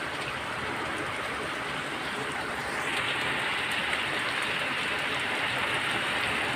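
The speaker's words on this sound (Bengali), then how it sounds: "এখন জোরে নামছে বৃষ্টি।" Heavy rain driven by wind falls on a mango tree and a water tank, a dense steady roar that swells louder partway through.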